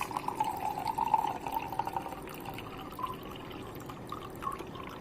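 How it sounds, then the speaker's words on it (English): Clear water is poured gently from one container into another, leaving settled sand behind, making a soft, continuous trickle and splash with faint drips, close by and quiet. "I'll pour clear water without disturbing settled sand at bottom into another container like this"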